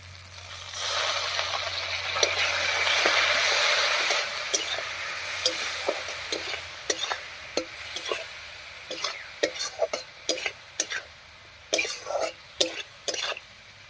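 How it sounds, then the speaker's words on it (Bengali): Garlic paste, cumin and dried chili powder fry with a splash of water in a pan, hissing broadly at first, then giving way to a run of sharp spatula scrapes and knocks against the metal. "এবার একটুখানি জল দিয়ে কষিয়ে নেব"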